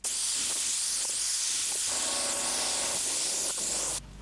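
Spray gun laying a light first coat of paint onto a Toyota Landcruiser 80 Series sun visor: a loud, continuous close-up hiss lasting about four seconds, with brief pulses, before it cuts off.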